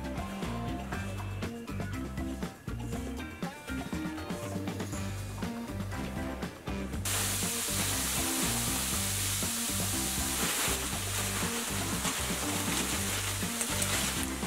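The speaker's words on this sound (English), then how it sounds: "Gonna give everything a nice little stir, make sure it's all coated in seasoning." Harvest vegetables and wild rice sizzle steadily in a one-pan dish, with stirring scrapes and clinks, the frying hiss swelling louder and denser partway through and continuing without pause.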